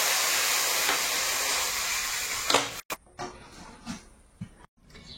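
Water poured into a hot pan of frying potatoes and spices, a loud steady hiss of sizzling steam that cuts off abruptly, followed by quieter scattered pops and crackles.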